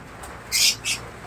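Young birds in nest boxes give two short, high, hissing squawks in quick succession over faint background noise.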